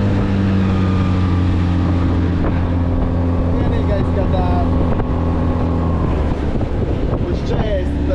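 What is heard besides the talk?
Tohatsu outboard motor on an inflatable boat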